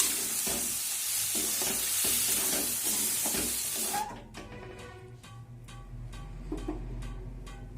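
Water poured into a pan of vegetarian chana masala with cashew, sizzling hard at first, then the frying hiss cuts off abruptly into a quieter simmer with a few stirring clinks near the end.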